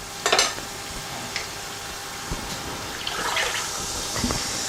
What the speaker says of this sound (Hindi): तो यहाँ पर जो है हम ये यखनी डाल देते हैं।